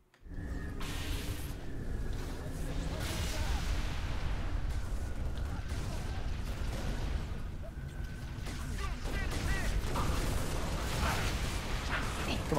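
Grenade blasts and heavy weapon fire in Halo: Reach rumble low and continuous, with booming thuds under a dense din of battle noise lasting over twelve seconds.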